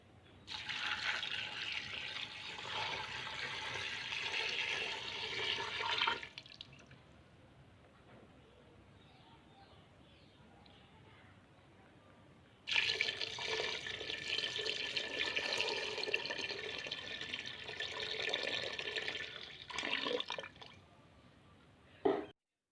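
Tap water pours into a pressure cooker holding two dozen chicken feet, a steady splashing stream in two long bursts separated by a quieter trickle.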